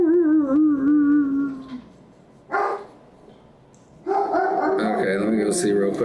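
A household dog barks a few times indoors as family members arrive home at the door, mixed with nearby talking and some louder bursts of clatter and voices.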